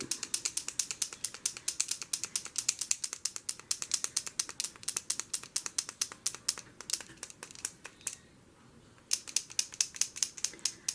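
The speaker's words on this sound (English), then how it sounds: "I gotta shake that little ball up" A fabric marker is shaken hard so its mixing ball rattles in rapid, crisp clicks, close and loud. The clicking runs steadily for about eight seconds, pauses briefly, then resumes with no speech.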